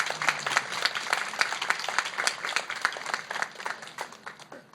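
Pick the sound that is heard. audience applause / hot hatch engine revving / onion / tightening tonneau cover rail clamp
audience applause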